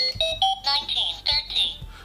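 A Haptime YGH-335 alarm clock sounds its alarm in a series of short, bright electronic beeps in an uneven pattern, close and fairly loud, over faint low background noise.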